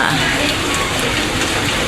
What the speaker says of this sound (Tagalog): Bumuhos na talaga ang ulan.